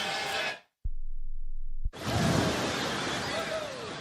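A heartbeat effect from an anti-drunk-driving ad: two deep, soft thumps about a second apart sound in a brief quiet gap, with loud broadband crowd-like noise before and after.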